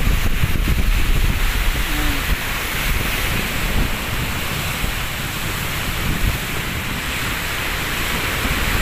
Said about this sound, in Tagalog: Pero malakas pa rin yung alon dito sa Manila Bay oh.